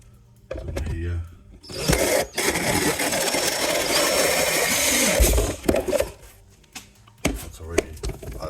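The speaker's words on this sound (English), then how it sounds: "I'm just gonna use this hole saw to get it started, I suppose." A hole saw bites into plastic on a BMW E36 intake part in bursts of harsh, loud grinding, with quiet gaps between runs.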